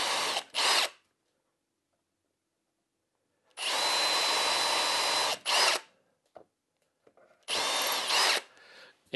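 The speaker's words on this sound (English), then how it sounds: "Now the last thing I need to do is drill a couple of holes, pilot holes through here." A power drill whirs in three bursts while drilling pilot holes in wood, a quick double pulse then two longer runs, close and loud with silence between.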